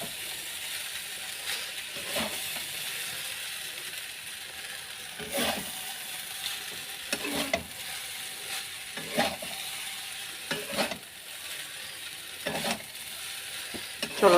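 Egg chicken chow mein noodles sizzle steadily in a pan while being stirred, with a constant frying hiss broken by periodic scraping strokes of the utensil every second or two, no talk.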